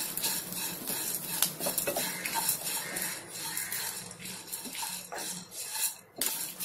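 Curry leaves sauté in a pan, sizzling steadily while a utensil stirs and scrapes with repeated metallic clinks close by.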